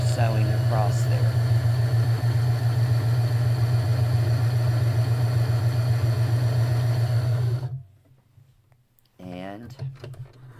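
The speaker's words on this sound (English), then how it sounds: "And just continue sewing across there." A sewing machine stitches across a quilt patch block in a steady, even whirring run for about seven seconds, then stops abruptly; a brief voice is heard afterward.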